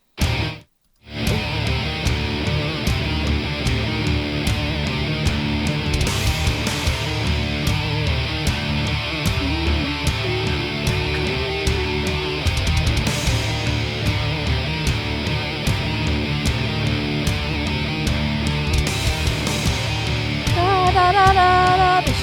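A metal song plays from a recording, a dense, loud full-band mix sustained throughout after a brief dropout at the start, with no talking over it.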